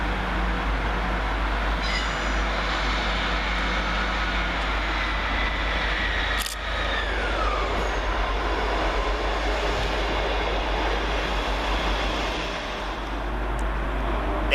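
East Midlands Railway class 158 diesel unit 158799 pulls out from the far platform at Peterborough station, running five minutes late. A steady engine rumble and rolling-wheel drone continue throughout, with a sharp transient midway and faint squeals.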